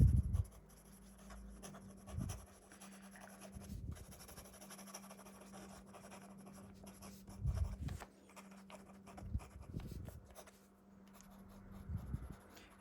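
A Leonardo MZG fountain pen with a titanium nib writes on paper, making quiet, slightly toothy scratching strokes in separate bursts over a steady low background hum.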